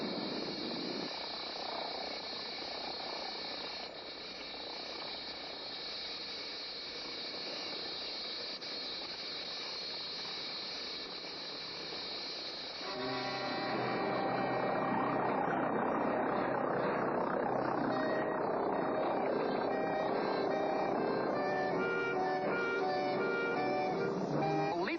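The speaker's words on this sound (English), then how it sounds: "Well, the plane's nearly on target." Propeller plane passing overhead during a stunt where a man is plucked from a saddle, a steady droning, whirring engine roar that grows louder and fuller partway through, with no talk.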